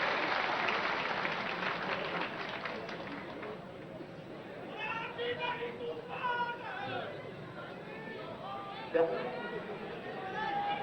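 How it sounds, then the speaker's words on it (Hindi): Crowd applause welcoming a state chief minister at a public event at a cow sanctuary, a sustained clapping wash mixed with crowd chatter and babble, loudest at the start and easing off. "जोरदार तालियों से करकर ध्वनि से स्वागत अदा करिए भाइयों बहनों"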